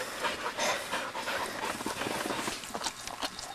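Hunting dogs pant rapidly and close by during a wild boar hunt in a ditch in Hawaii, a busy rhythmic huffing with some rustling movement throughout.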